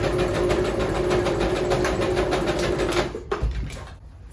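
A sewing machine stitches a neckline seam on a tee with a fast, even rattling hum and rapid needle clatter. It is loud and close, then slows and stops near the end.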